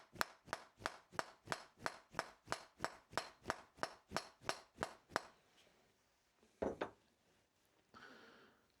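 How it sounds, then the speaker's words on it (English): Rubber hammer striking a stuck part on a drill press in a fast, even run of about seventeen sharp knocks, then stopping, followed by a couple of scattered clunks and a brief scrape. "Rubber hammer, maybe."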